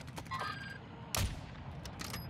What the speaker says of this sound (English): I'm being sniped from another angle.